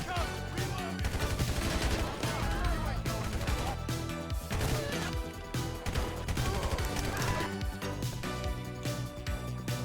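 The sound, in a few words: gunfire in the video game GTA V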